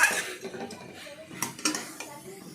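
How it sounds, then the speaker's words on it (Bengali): A utensil scrapes and clinks against a pan while banana blossom curry with garam masala is stirred, giving irregular metallic knocks and scrapes at close range, with a voice murmuring faintly underneath. "ভালো করে গরম মশলা গুঁড়ো দিয়ে ভালো করে নাড়াচাড়া করতে হবে তরকারিটিকে"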